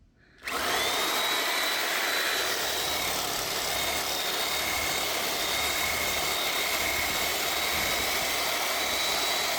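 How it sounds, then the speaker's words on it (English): A Sawzall reciprocating saw cuts a full circle around a tree stump, starting abruptly and running as a loud, steady, close buzzing drone with no pauses. "I just cut a full circle"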